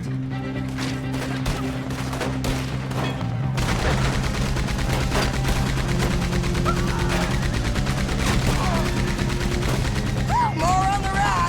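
Rapid gunfire rattles through a Red Dead Redemption 2 shootout during a train assault on the army. Dense volleys run throughout, with a hard shift a few seconds in and voices shouting over the shots.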